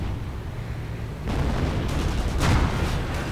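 Stuka dive bomber attack in a WWII strategy video game, heard as a continuous rumble of battle noise that swells into heavy booming explosions, loud and dense, with no talking.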